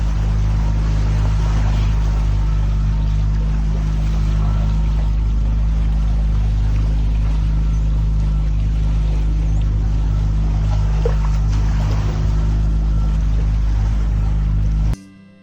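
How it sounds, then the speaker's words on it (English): A catamaran's outboard motor drones loudly and continuously, a steady low buzz with splashing wind noise at sea, cutting off abruptly at the end. "mostly with the motor buzzing in your face"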